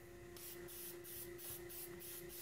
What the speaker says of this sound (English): spray glue those